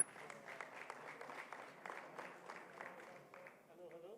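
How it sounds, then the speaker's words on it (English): An audience at a startup event's stage claps for a presenter, a moderate burst of applause at a distance with some crowd voices mixed in, thinning toward the end. "big round of applause, please, for super nervous Doug"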